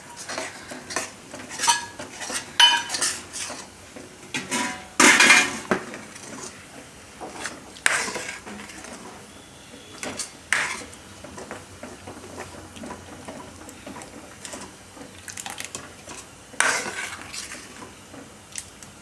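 Kitchen King masala is mixed into a palak pakoda curry in a pan, with intermittent spoon scrapes and clinks against metal at irregular intervals, close with quiet gaps between strokes.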